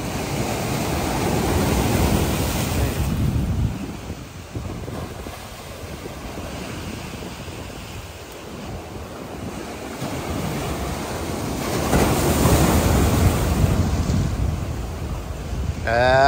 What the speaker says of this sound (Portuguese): o avanço do mar